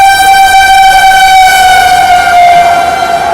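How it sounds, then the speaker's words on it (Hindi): Horn of the Varanasi Vande Bharat Express as it overtakes the Shatabdi Express, a loud sustained multi-tone blast holding steadily for several seconds over rumbling rail noise. "वाराणसी वंदे भारत एक्सप्रेस ओवरटेक कर रही है शताब्दी एक्सप्रेस को"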